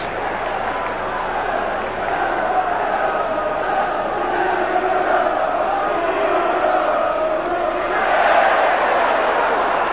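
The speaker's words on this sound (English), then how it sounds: "Crowd showing their disapproval." A football crowd at Crystal Palace v Blackburn Rovers in the 1988/89 Division 2 play-off final voices its disapproval, a loud sustained roar and jeer of many voices filling the stadium and swelling near the end.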